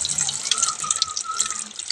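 Water runs from a tap in a steady, close, continuous splashing stream with no pauses and no talking.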